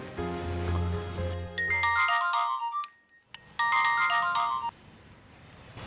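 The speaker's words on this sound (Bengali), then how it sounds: "ফোন।" A mobile phone ringtone plays a bright electronic melody in two loud bursts separated by a short near-silent gap, sounding alone without talk.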